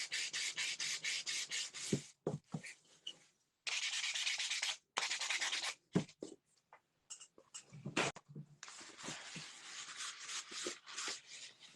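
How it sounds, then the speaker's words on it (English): Steady back-and-forth rasping of sandpaper on wood in long strokes, broken by short pauses and small knocks, close and clear. "I'm going to give this a really light sanding."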